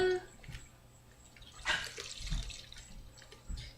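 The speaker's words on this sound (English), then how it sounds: "next I'm going to use 2 cups of milk" Two cups of milk pour into a baking dish for a bread rhubarb apple cobbler, a soft, close splashing and trickling that rises in the middle and then tapers off.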